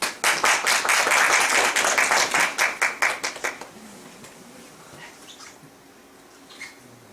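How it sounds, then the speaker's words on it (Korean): Audience applause at a university student lecture: a burst of brisk, rhythmic group clapping for about three seconds that quickly thins out and fades into a quiet room. "박수."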